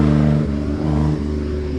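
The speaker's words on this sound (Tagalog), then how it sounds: "May mga sasakyan dito." Cars driving along a rural road, a steady engine rumble with a couple of brief swells as vehicles pass nearby, moderately loud and without talk.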